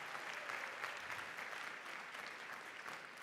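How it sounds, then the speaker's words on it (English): A high school graduation audience gives school staff a sustained round of applause, dense and even clapping from a large crowd heard at a distance. "Can you give them a round of applause?"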